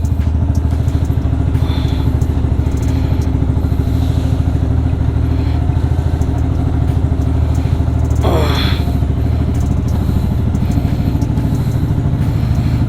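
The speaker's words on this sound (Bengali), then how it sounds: "বাইকটা স্টার্ট দিই আর বেরাই নেল্লোরের উদ্দেশ্যে" A heavily loaded touring motorcycle rumbles steadily at close range, its engine running low and continuous throughout, with a brief clatter and rising scrape partway through as the bike is shifted out from between a parked car and another bike.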